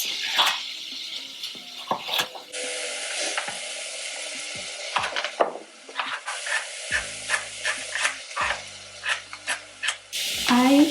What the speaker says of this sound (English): the onion is really cooking nicely